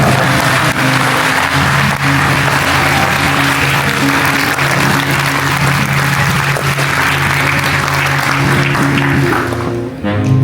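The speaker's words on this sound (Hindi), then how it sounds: "एक बार मैं चाहूंगा सभागार जोरदार ताली से।" An auditorium crowd at a cultural evening applauds in a long, sustained roar of dense clapping over a faint, steady tonal hum, easing off near the end.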